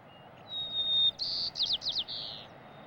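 Sparrow singing outdoors on the California coast: a thin high whistled note, then a buzzy trill and a few quick slurred chirps, clear and moderately near over faint background hiss.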